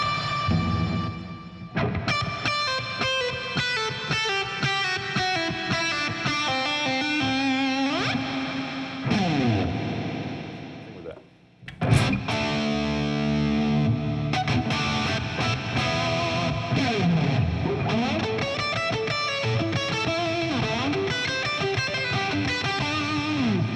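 Electric guitar played through a TC Electronic HOF Mini Reverb pedal on a plate setting, distorted phrases and chords ringing into a lush wash of reverb, loud and up close, with a brief pause midway.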